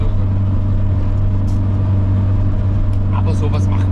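Simca Rallye 2 engine under throttle, a loud steady droning note with strong low harmonics throughout, close by, with a voice talking over it near the end.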